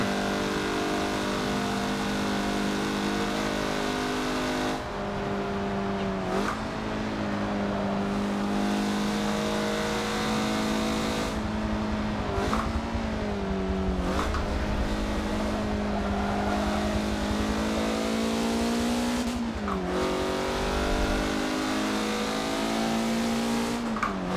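A 2013 Mazda MX-5 Cup car in Forza Motorsport 7 at the Nordschleife revs hard, its engine note climbing and then dropping sharply at each gear shift, with occasional tire squeal, loud and continuous.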